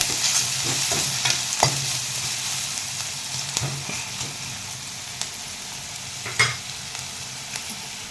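Vegetables fry in oil in a pan with a continuous soft sizzle, punctuated by scattered scraping and clinking stirs of a spoon against the pan.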